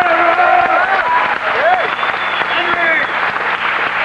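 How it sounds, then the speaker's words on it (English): An audience claps loudly at a jazz spring concert in 1991, a dense steady applause running throughout, with a voice speaking over it. "if you give him a round of applause"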